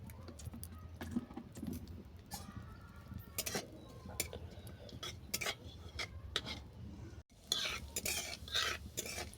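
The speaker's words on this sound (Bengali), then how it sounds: "জিরে ভালো করে ভেজে নেওয়ার পর" White cumin seeds frying in mustard oil in a kadai, a soft steady sizzle under repeated scraping and stirring clinks of a utensil against the pan, close and fairly quiet.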